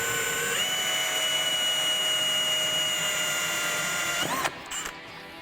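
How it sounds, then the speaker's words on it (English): A power drill with a 7/8-inch hole saw cutting through a semi truck's firewall whines steadily at close range, its pitch holding for several seconds, then winds down and stops with a few clunks. "So we got a 7/8 hole saw, going to drill a hole"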